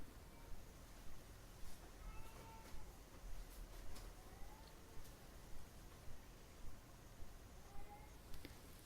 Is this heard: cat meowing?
yes